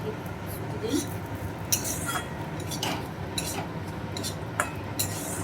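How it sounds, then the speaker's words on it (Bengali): A spoon scrapes and clinks against a pan in short, irregular strokes as semolina is fried and stirred in ghee, over a low background hum. "আর আমি সুজি দিয়ে দিচ্ছি ঘিয়ের মধ্যে এবার ভেজে নেবো"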